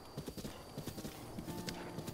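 Rhythmic clip-clop of horse hooves trotting at a brisk, even pace in Zelda: Breath of the Wild, fairly close, with faint background ambience.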